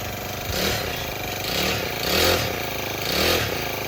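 A Honda FG110 mini tiller engine runs steadily with a low, throbbing chug and a gentle rise and fall in pitch, close by, with no voices.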